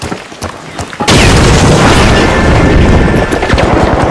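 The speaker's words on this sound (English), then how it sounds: "Throwing a frag." A frag grenade detonates in The Finals, a sudden loud boom that cuts off quieter game sounds and rolls into a sustained, roaring rumble of debris and crackle.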